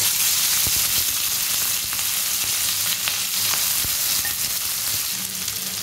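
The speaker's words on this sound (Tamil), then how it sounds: "லோ ஃப்ளேமில் வச்சு இதை நல்லா நம்ம ஃப்ரை பண்ணி எடுத்துக்கணும்" Mutton pieces fry in oil over a low flame, giving a steady, close sizzle with a few faint clicks from the pan and no voices.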